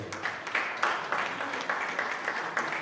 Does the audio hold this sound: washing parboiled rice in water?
no